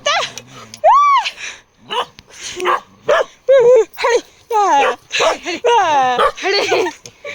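Several dogs barking and whining in short bursts, near and loud, mixed with people's voices talking and calling out in Hindi.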